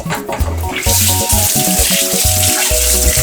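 Red cabbage being washed under a running kitchen tap: a loud, close, steady gush of water with splashing and bumping as the cabbage is handled, and no talk.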